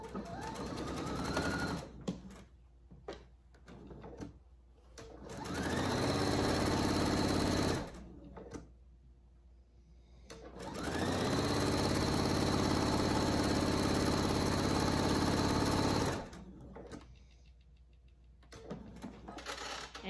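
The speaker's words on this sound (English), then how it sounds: "I'm going to start sewing at a 1/2 inch seam allowance" A sewing machine stitching a half-inch seam on fabric for a pillowcase dress, running in three long steady bursts with short pauses between them, close and clear with no talk.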